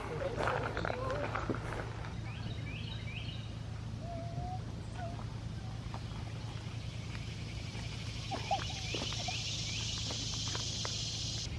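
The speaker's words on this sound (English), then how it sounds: "there's a duck with little babies up here" A mother duck with her baby ducklings at a park pond gives soft, brief calls and peeps over a steady outdoor hum, faint and intermittent, with a voice talking partway through.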